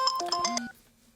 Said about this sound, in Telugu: ఈ టైంలో ఫోన్ ఎవడు బావా?